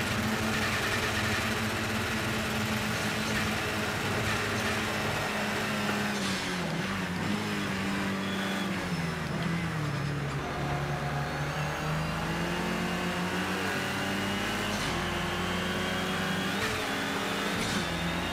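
A GT4 race car in the Project CARS 2 racing game howls at the limit of its engine, a continuous loud strained whine with shifting pitch and brief gear changes, alone without any voices throughout.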